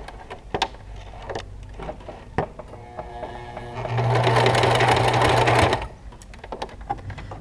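A sewing machine stitches a capitonê tire cushion in a steady, loud whirring run of a couple of seconds, framed by scattered clicks and handling knocks before and after.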